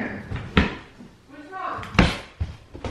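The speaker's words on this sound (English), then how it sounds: "He's opening all the drawers" A small child opens drawers at home: a few sharp wooden knocks and thuds, near and fairly loud, with a voice and other household noise around them.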